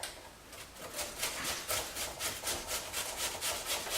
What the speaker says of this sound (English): I've grated approximately 4 cucumbers in total.